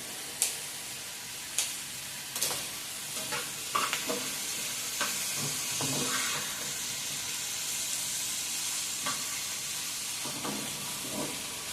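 Ginger frying in a pan on a home stove, a soft continuous sizzle with a few sharp scraping clicks of a spoon early on, steady and close.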